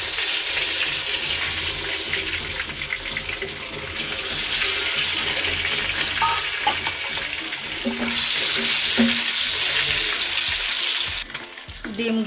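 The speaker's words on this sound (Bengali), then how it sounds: "ডিমগুলো হালকা ভাজা হয়ে গেছে এবার উঠিয়ে নেব" Halved boiled eggs fry lightly in hot oil for a home-style beef kacchi biryani, a continuous dense sizzle close up with occasional stirring clinks, loud and steady throughout.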